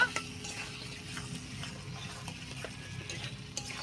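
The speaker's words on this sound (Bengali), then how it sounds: "এখন এই ভাজা আলুগুলো দেওয়ার পরে একটু হালকা আমি মিশিয়ে নিব" Quiet scraping and light clinks of a spoon stirring food in a pan, steady and soft, with a faint sizzle underneath.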